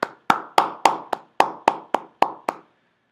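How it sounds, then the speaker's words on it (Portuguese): About ten crisp, evenly spaced hand claps ring out at a speaker-training session, each a sharp close slap with a short room echo, then silence. "uma salva de palmas"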